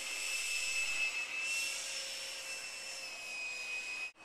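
A Nitroplanes Alpha Jet with a 68mm electric ducted fan flies as an RC jet, its high, steady whine droning on at a distance, fairly quiet, before cutting off abruptly near the end.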